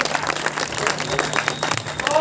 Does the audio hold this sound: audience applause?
yes